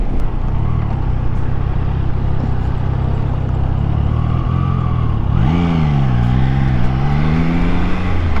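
A Triumph Trident 660 motorcycle, the full 81-horsepower version, rides along with a steady engine drone, then shifts and revs up and down with rising and falling pitch, loud and close, with no talk.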